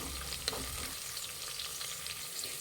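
Soaked dried peas fry in tempering oil for a plain pulao, a close, steady crackling sizzle with light stirring scrapes and no voices.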